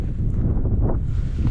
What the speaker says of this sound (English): It's still a little breezy though.